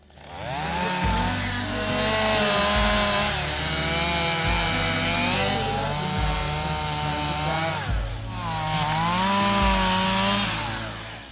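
A chainsaw cuts wood while chopping firewood, its engine snarling loudly and steadily with pitch dipping and rising as the chain bites, close by with no talk.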